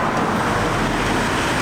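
Cars and motorbikes pass through a tight tunnel in Hue, Vietnam, a loud, continuous roar of engines and road noise that echoes close by with no break.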